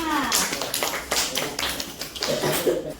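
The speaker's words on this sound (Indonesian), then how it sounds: "Tepuk tangan dulu untuk kelompok 5." Classroom clapping for a student group, a few loose bursts of hand claps from students mixed with nearby voices over a few seconds.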